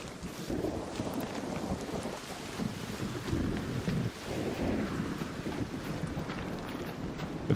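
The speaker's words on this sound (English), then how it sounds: "It's currently an electromagnetic storm" An electromagnetic storm in the Arc Raiders video game roars with steady wind and rain and a low rumbling swell of thunder, continuous and enveloping throughout.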